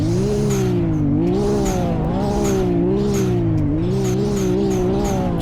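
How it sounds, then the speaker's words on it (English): A Nissan R34 Skyline in a video game drives with a steady, loud engine drone that rises and dips through repeated gear shifts, each marked by a short, hissing turbo blow-off. "And the turbo blow off."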